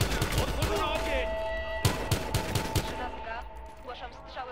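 Gunfire in the video game Battlefield Hardline during a police raid, with a string of sharp close shots in a burst midway, over steady background noise and voices talking.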